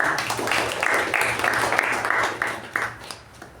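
Members at a Toastmasters meeting applauding, a moderate round of clapping in a room with a low steady hum underneath, gradually thinning and tapering off toward the end.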